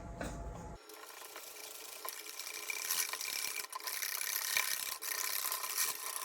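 Batter of flour, eggs and cold milk being whisked in a bowl, a steady close scraping and rasping that runs continuously after a brief low thump at the start.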